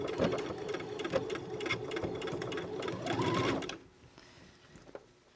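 A sewing machine stitches a 5/8 inch seam on a shirt sleeve, running in a steady fast whir for several seconds before stopping, with one brief click afterward.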